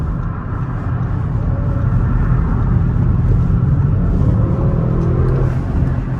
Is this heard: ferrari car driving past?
yes